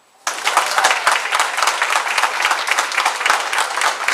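Loud, sustained applause from a seated crowd at a fire company's installation of officers dinner and dance, dense clapping starting abruptly and continuing steadily without talk.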